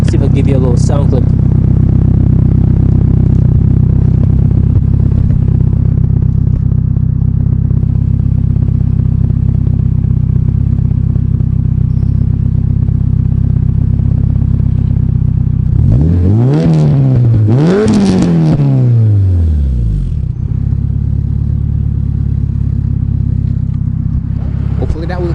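AWD Honda Accord engine idling steadily up close, then blipped into two sharp revs that rise and fall before settling back to idle.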